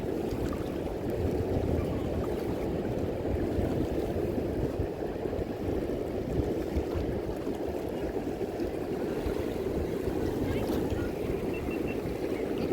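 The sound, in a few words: small boat at sea, Pandawa Beach, Bali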